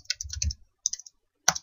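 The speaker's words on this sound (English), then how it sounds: "Typing presidential within quotation marks" Typing on a computer keyboard: quick bursts of crisp, close key clicks in two short runs, then a single louder keystroke, with no talking.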